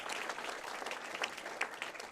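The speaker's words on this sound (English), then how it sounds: "one big round of applause for all of the finalists for our state" Applause from the crowd at a high school state bowling championship honouring the singles finalists, a dense continuous patter of clapping, fairly faint and even for the whole stretch.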